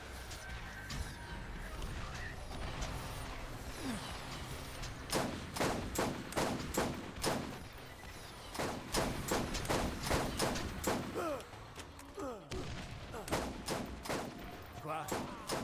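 Gunfire and grenade-launcher blasts from the Borderlands video game crack out in repeated sharp bursts and rapid volleys over a busy rumbling background, moderately loud throughout.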